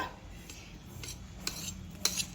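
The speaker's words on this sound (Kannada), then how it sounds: "ಈಗ ಒಂದು ಚಿಕ್ಕ ಚಾಕುನ ತಗೊಂಡು ಹೀಗೆ ಮಾರ್ಕ್ ಮಾಡ್ಕೊಳ್ಳೋಣ" A small knife scores lines into a sweet mixture spread evenly in a tray, giving soft scraping strokes and a few light metallic taps against the tray, close and quiet with no talk.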